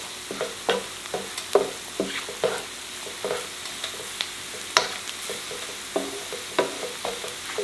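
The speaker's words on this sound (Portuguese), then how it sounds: "Vamos mexendo para cozer um pouco a farinha." A spoon scrapes and stirs plain wheat flour cooking in a pan, with regular clacking strokes over a soft, steady sizzle, heard up close with no talking.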